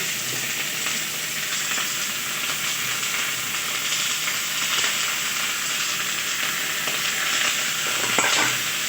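Potatoes hiss and crackle steadily in hot oil as they are stirred around a pan, a close, continuous sizzle with soft scraping throughout and no talk.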